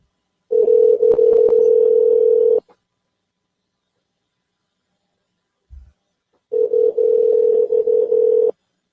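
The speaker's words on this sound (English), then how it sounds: "Well, it's ringing now." Telephone ringback tone on an outgoing call, two loud steady bursts of about two seconds each, separated by a long silent gap and a brief faint click.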